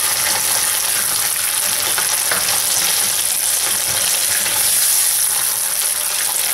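Soy sauce and sauce sizzling and frying in a pan for chicken morcon, a steady loud broadband hiss with light stirring, no talk.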